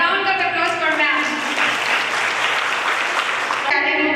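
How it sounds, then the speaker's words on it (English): An audience at a college annual function claps in a dense, sustained burst of applause that rises and then fades, with a voice and music heard at the start and end. "A round of applause for ma'am."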